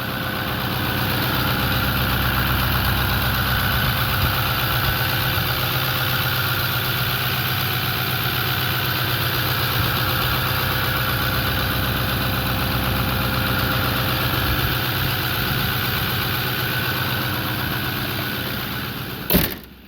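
A 2008 Ford F250 pickup with a 6.4 Power Stroke diesel V8 idles steadily, a loud, close, even rumble with a constant mechanical clatter that holds unchanged for the whole stretch before a short knock at the end.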